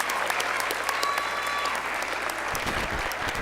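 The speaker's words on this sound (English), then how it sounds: "Let's give her a round of applause as she comes up." An awards-ceremony audience claps steadily and evenly for a few seconds, a dense sustained round of applause with little else over it.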